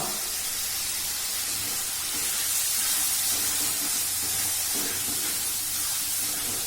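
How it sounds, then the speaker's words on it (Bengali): Chicken mince sizzles in a hot pan while egg chicken tarka is cooked, a steady, even hiss of frying that runs throughout with no talk over it. "এইবার এতে আমি অ্যাড করে দিচ্ছি চিকেন কিমা"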